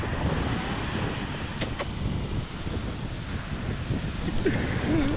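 Steady, loud wind roars and buffets the microphone throughout in Barbados, with rushing low-end noise and faint voices briefly surfacing near the end.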